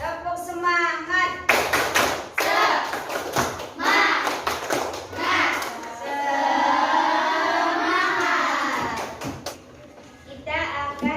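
A school class claps a rhythmic spirit clap together: patterned bursts of hand claps and taps alternate with the children's chanting voices. The clapping is loud and close, with a longer chanted stretch in the middle.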